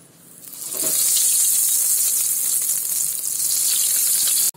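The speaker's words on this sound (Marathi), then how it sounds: "गॅस पेटवलाय, तेल पण तापलंय. आता मी त्याच्यामध्ये आहे ना एक एक करून सोडते." Rava vegetable cutlets hit hot oil with a loud, steady frying sizzle that swells within the first second and holds bright and dense until it cuts off abruptly, with no voices.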